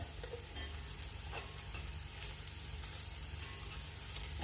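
Mutton pepper roast sizzles quietly in a pan while a spoon stirs it, with soft scraping clicks scattered over the continuous frying hiss.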